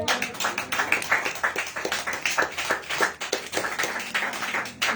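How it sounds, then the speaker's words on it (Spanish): Church congregation clapping in praise during a Spanish-language sermon, with uneven, rhythmic claps and taps rising and falling in bursts, fairly close. "Denle aplausos al Señor."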